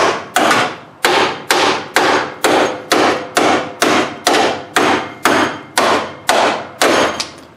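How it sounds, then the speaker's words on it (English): Frame puller straining against the front of a demolition derby car, an Avalon, until a bolt rips out; a steady run of about fourteen loud, evenly spaced metallic clanks, each sharp and ringing, close up with no talk. "just ripped the bolt right out of the front of her."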